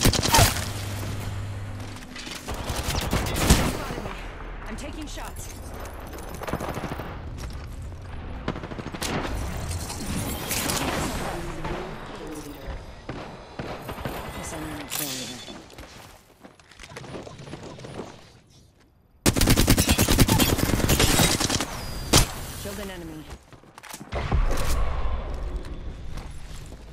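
Video game gunfire with bursts of automatic fire and sharp shots, loud and close, interrupted by short pauses and a brief near-silent gap before heavier firing resumes.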